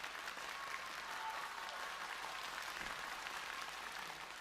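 A theatre audience at a Yue opera competition claps to welcome a contestant, a steady, even roar of applause throughout.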